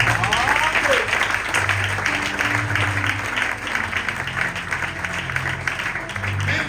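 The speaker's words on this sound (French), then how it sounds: "Est-ce qu'on peut acclamer pour moi?" An audience at an evangelism campaign applauds steadily in a sustained wash of clapping, with voices mixed in throughout.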